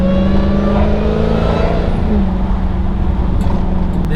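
Loud, close exhaust note of a Dodge Challenger SRT Hellcat Widebody with a Corsa exhaust and catalytic converters fitted, plus supercharger whine, a deep engine tone that rises and then settles into a steady roar.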